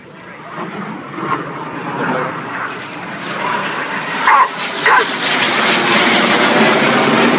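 Red Arrows display jets roar past in a low-level pass at an air show over Torquay, a rising, sustained engine rush with brief louder bursts, over a crowd and a commentator's voice.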